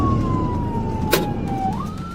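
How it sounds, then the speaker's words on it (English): A police car siren wails on a dashcam recording during a high-speed chase, its tone sweeping slowly downward and then rising again over engine and road rumble, with a brief sharp burst midway. "Flashlights and sirens blared."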